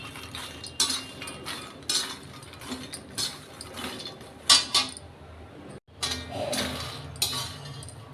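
A spoon scrapes and clinks steadily against a metal kadai as makhana (fox nuts) are stirred and dry-roasted until crisp, giving repeated close metallic strokes with a short gap partway through.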